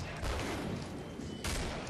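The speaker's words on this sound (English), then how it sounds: "Long range shooting." Gunfire in the game Killing Floor, heard as a dense, fairly faint rattle of rapid shots with a brief louder burst near the end.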